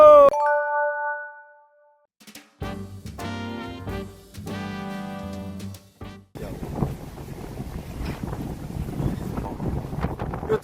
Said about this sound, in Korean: 바람소리가 넘심한데 괜찮으실까요?